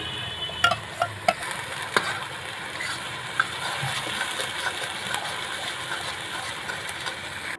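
Paste made from four large onions fries in a pan, sizzling steadily at moderate volume. A handful of sharp spatula taps and scrapes against the pan break through early, then the sizzle carries on alone.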